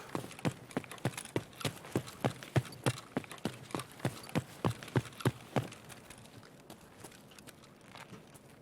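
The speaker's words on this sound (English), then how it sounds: "Now I can't tell if I'm just hearing scav footsteps at the bottom of the ramp." Scav footsteps in Escape from Tarkov thud in a steady, even rhythm of roughly twenty steps, fairly distinct, then fade out and leave quiet ambient background.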